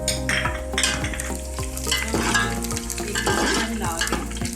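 Garam masala is stirred into browned onions in a pot, bringing a constant loud sizzle with metal spoon scrapes and clinks against the pot in quick, repeated strokes, close up.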